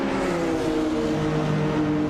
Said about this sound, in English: Chu 22 is driving a 1986 BMW M3, which is known for its agility and balanced handling